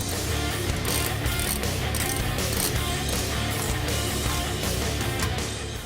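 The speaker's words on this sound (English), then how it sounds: "Tighten it up with a 5/16 hex bit." Ratcheting hand tool fitted with a 5/16 hex bit tightening an exhaust clamp on a Ford F-150 EcoBoost cat-back system, a continuous fast clicking ratchet close to the microphone for several seconds.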